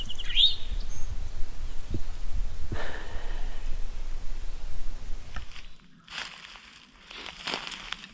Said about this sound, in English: This bird's still gobbling.